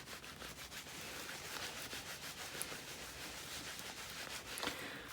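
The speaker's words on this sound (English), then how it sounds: "You can sort of do a bit of rubbing on those edges that way" Fingers rub the edges of a wet felt phone case in a soft, continuous scrubbing rhythm, quiet and close, with faint brighter scrapes now and then.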